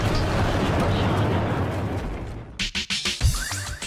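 A rumbling blast fades into a series of sharp, quick bursts and impacts, loud and close.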